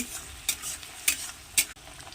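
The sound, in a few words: dried fish frying and being stirred in oil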